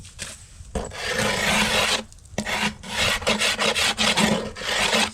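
A wooden beehive box is scraped and smoothed by hand, with repeated rasping strokes in uneven bursts and short pauses, close and fairly loud, with no voices.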